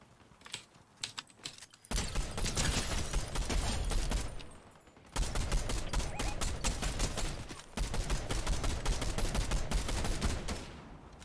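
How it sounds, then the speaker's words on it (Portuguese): Gunfire in a video game, bursts of rapid automatic shots crackling loudly in long sustained volleys separated by short lulls, with fainter scattered shots in between. "De onde tá vindo tiro?"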